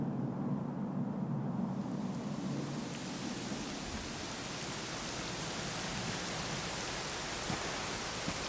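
Steady rain falls in Dragon Quest XI S at the Dundrasil ruins, a dense, even hiss that thickens after the first couple of seconds and continues alone without any voices.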